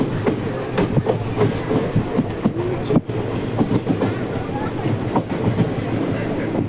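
The Indo-Ceylon Boat Mail passenger train runs along the track, wheels clattering in irregular rhythmic clicks over a steady rumbling roar, heard close from on board with brief voices in the background.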